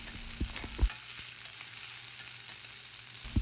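Small onions and garlic fry in a pan, a constant soft crackling sizzle with a few low knocks of a spoon against the pan, close and without voices.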